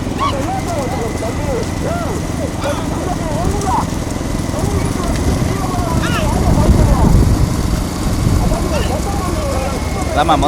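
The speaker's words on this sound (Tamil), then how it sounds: "வண்டியை ஓட்டுறதாமா பட பட படங்குது" Hooves clatter in a busy rhythm during a bullock cart race at Meenakshipuram in Thoothukudi district, set against a loud crowd with steady shouting and an engine droning underneath.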